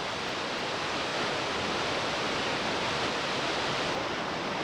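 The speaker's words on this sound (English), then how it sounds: "The water plunges about 60 meters into the deep gorge." Spahats Creek Falls in British Columbia, Canada, dropping about 60 meters into a deep gorge, a constant full-bodied roar of falling water, steady and unbroken with no voices.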